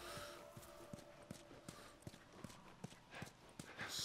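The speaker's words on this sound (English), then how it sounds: "Oh, I would have a chat, not get off the horse." Hooves of a horse walking in the video game The Last of Us give a steady, even clip-clop rhythm of distinct hoof strikes, fairly close and quiet over a soft ambient background.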